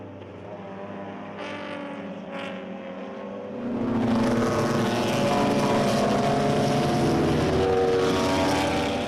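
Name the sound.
race cars passing on track, BMW club race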